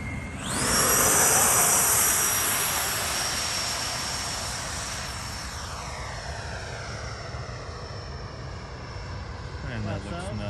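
An RC model MB-339 jet plane takes off with a loud, steady whine and rushing roar that swells in the first seconds, then slowly fades and changes pitch as it moves away.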